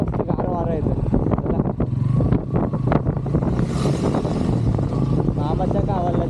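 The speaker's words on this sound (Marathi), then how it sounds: "पण इकडे मस्त गार वारा येतं" Cool coastal wind in the Konkan countryside gusting steadily against the microphone as a dull roar, with voices talking over it.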